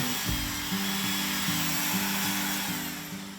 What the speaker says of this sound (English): I'm switching to a die grinder, a large rotary tool with a grinding burr attachment for more precise detail work